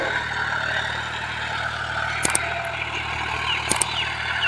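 A John Deere 5105 tractor with a 40 HP engine runs at 1500 RPM while pulling a cultivator through soil, giving a steady close drone with a low throb and a couple of brief sharp clatters.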